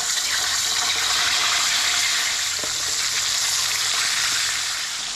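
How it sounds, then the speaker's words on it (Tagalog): Fish sizzles in a heated pan, a dense, steady hiss of frying oil that stays close and loud throughout, with a faint low background hum and no voices. "nagpainit natin ang kawali. Prito na tayo."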